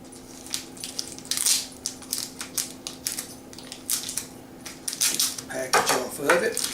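Plastic packaging is pulled and torn off a summer sausage, giving repeated crinkling, rustling bursts with knife and tabletop knocks, close by in a kitchen under a steady background hum.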